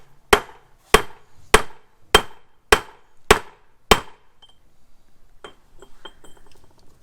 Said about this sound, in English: I'm just going to hammer a couple more times for good measure.